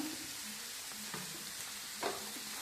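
White chickpea masala is stirred and fried in a pan, a faint steady sizzle with a few soft scraping strokes of the spoon.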